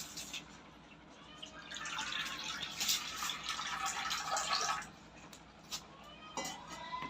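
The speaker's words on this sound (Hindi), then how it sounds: "इसके लिए सबसे पहले मैं डालेंगे पानी।" Water pours into a wok on a stove for chutney, a rushing splash that swells for about three seconds and then gives way to scattered drips and light clatter.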